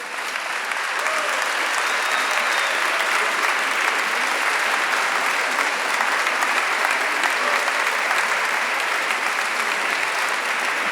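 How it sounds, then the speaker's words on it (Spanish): Dense, steady applause from a concert audience at a fiftieth-anniversary concert fills the room as a former student is welcomed, a continuous wash of many clapping hands holding an even level throughout. "vamos todos a recibir a ese alumno con un aplauso"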